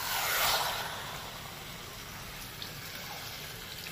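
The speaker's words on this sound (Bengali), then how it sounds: "এবার দিয়ে দেবো জলটা" Water pours steadily into a pan of fried potato and brinjal for a pabda fish curry, a soft continuous gush that swells early and then settles into a gentle, even stream with no voices.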